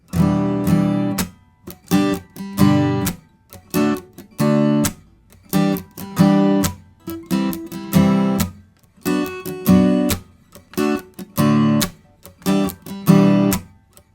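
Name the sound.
guitar strumming pattern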